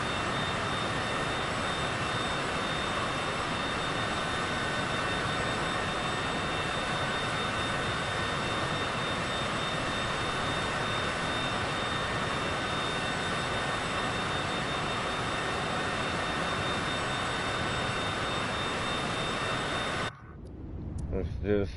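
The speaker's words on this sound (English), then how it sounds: "Flaps down, gear down. Coming in for a landing," An airplane comes in to land with flaps and gear down in Microsoft Flight Simulator 2024 on PS5, a loud steady jet engine roar held throughout before cutting off abruptly near the end.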